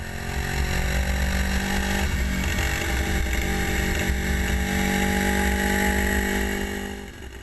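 A 1968 Honda CB350 custom cafe racer motorcycle rides steadily, its engine droning loud and close throughout with continuous wind rush, holding a fairly even pitch before easing off at the very end.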